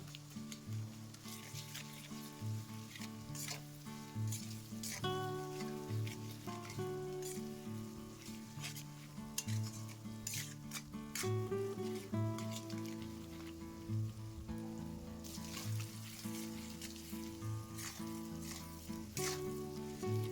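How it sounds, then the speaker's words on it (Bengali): Spice masala with ginger-garlic paste sizzles steadily in a pan for a chicken curry while being stirred, a soft continuous hiss with scattered scraping clicks, set against a low humming background and no talk. "এবার এক চামচ আদা রসুন বাটা দিয়ে মশলাটা ভালো করে কষিয়ে নেবো"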